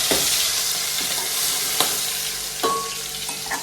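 Steady, bright sizzle of mustard seeds and cumin crackling in hot oil, with a few sharp clinks of a spoon against the pan, and no talking.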